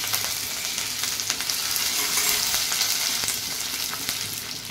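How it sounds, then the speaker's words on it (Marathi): Curry leaves crackling and sizzling in hot oil for a spicy Maharashtrian amti, a dense continuous frying hiss with sharp pops, close and fairly loud with no speech. "कढीपत्ता टाकून घेऊ।"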